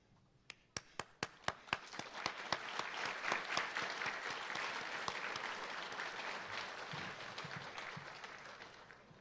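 A graduation audience breaks into applause, beginning with a handful of distinct claps that quickly build into dense, steady clapping from a large crowd, heard at a moderate distance.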